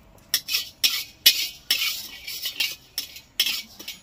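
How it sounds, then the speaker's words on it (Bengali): Whole cumin seeds being stirred and dry-fried in a pan, with a run of brisk scraping strokes of a spoon against metal in an uneven rhythm, close and moderately loud, no talking. "গোটা জিরে একটু হালকা করে নেড়ে নেব"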